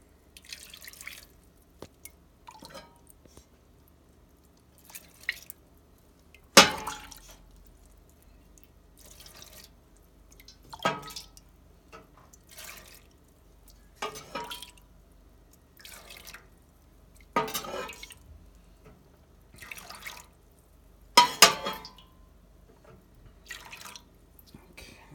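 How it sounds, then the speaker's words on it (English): Tea being strained drips into a vessel in a quiet room, single clear drops falling at irregular intervals of a few seconds, close and distinct against near silence. "Okay, and I start straining it."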